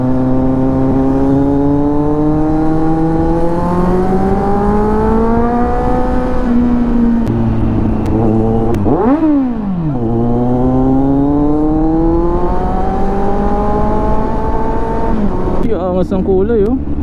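Kawasaki Z900 SE motorcycle rev bombing in Quibaol, Lingayen, Pangasinan, a loud, close, sustained engine roar whose pitch climbs slowly, dips sharply once and climbs again, ending in a choppy burst.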